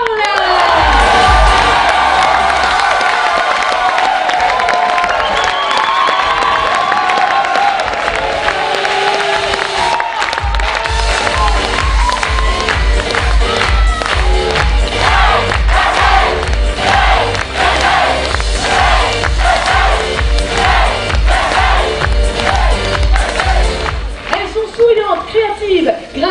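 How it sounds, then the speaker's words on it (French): An audience at a stage show in Millau cheers, whoops and applauds, with children shouting in the crowd; a presenter speaks over it before loud, rhythmic music with a heavy beat joins the sustained noise. "Sous vos applaudissements, Mr. Charles."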